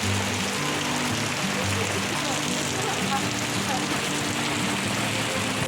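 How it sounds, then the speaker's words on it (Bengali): Heavy rain pours down in a dense, unbroken hiss that holds steady throughout, with a low background hum beneath the downpour. "প্রচুর বৃষ্টি পড়ছে"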